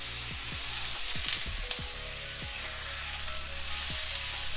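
Lomo saltado ingredients sizzle steadily in olive oil in a pan, a continuous close hiss with a few brief clanks and scrapes scattered through it.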